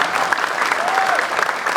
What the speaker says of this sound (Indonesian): Tepuk tangan buat ketua gardu semuanya.